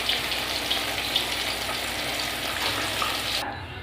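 Oil sizzling and crackling in a kadai for tempering a lentil dish, a dense steady hiss close up, unbroken until it cuts off near the end.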